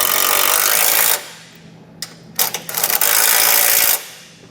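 A power tool drives a 13mm socket to snug up bolts on a Roadmaster Direct-Connect base plate kit for a 2023 vehicle, with two loud sustained whirring bursts split by a short gap of clicks and rattles.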